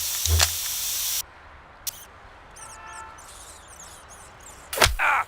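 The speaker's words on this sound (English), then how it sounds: "Spray can bandits in action." A spray can hisses in the police video game The Precinct. A long, bright hissing burst comes first, then short spurts and a final sharp spray, with faint game sounds between them.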